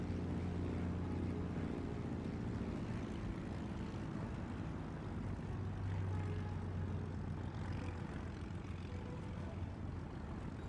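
Video game airplane on approach to landing with flaps and gear down, a steady droning engine hum with low tonal rumble holding at an even level throughout.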